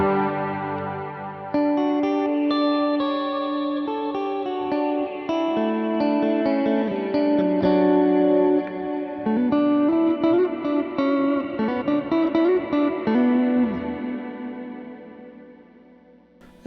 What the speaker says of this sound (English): And then here's my long reverb.